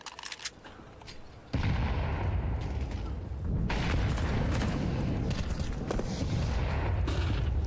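Grenade blasts and rapid gunfire from a Counter-Strike 2 match at the Shanghai Major, a sudden loud boom followed by sustained dense firing and explosions, with a quieter patch of game noise at the start.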